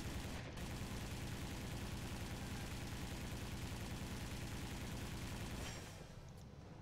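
Sustained gunfire from an Italian SM.79 bomber's machine gun in a flight video game, a dense, continuous, loud rattle over engine drone that cuts off near the end, leaving the engine hum.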